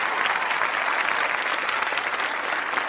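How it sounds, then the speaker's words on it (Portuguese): A congregation at a church service claps steadily and loudly, a dense wash of applause filling the whole stretch with no voice on top. "Dê uma salva de palmas para ele, gente."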